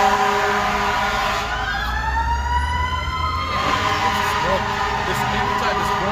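A fire truck siren wails loudly along a New York City street, rising and sweeping through its tones amid heavy traffic rumble as people talk nearby.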